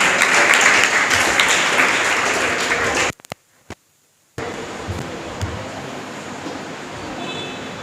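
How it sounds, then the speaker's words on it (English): Applause for a first-prize winner at a school confidence-building program, steady crowd clapping that cuts out abruptly for about a second before resuming at a lower level. "Clap for him."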